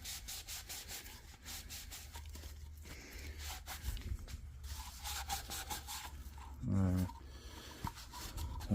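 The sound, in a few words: scrubbing old grime off a Savage 1921 pump-action shotgun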